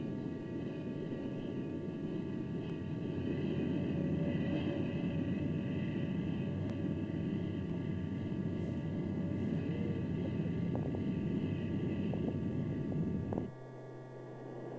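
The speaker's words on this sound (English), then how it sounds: "Landing with the wings in a fully swept position of 68 degrees, touchdown speed is 145 knots." F-14 jet landing with wings fully swept back at about 145 knots touchdown, a continuous loud engine roar that holds steady before cutting abruptly to a quieter rumble near the end.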